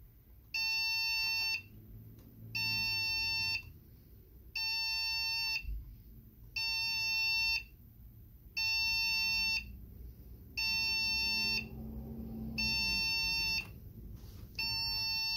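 An HP Pavilion 690 Ryzen gaming PC beeps during BIOS recovery: regular bursts of loud, high electronic beeping about a second long, repeating every two seconds over a low hum.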